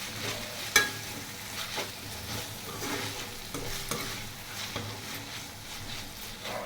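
Veg noodles with a splash of vinegar are tossed and stirred quickly in a hot pan, giving a steady close sizzle with repeated brisk scraping strokes and one sharp clink early on.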